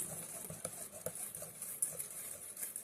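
Batter for a strawberry cream cheese pound cake being stirred by spatula in a bowl, soft rhythmic scraping and wet folding strokes, quiet and close.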